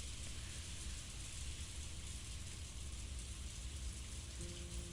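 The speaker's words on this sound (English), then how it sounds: "It was raining and windy" Steady, dense rain hisses continuously over a low rumble of wind in Umineko no Naku Koro ni, with no pauses or voices.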